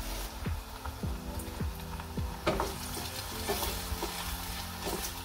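Onion and potato frying together in a pan while being mixed, a steady dense sizzle under repeated soft scraping and knocking strokes from the spoon, close and even in level.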